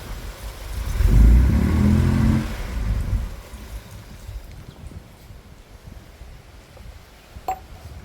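A car passes on a nearby road: a low rumble swells, peaks and fades away into quieter traffic noise.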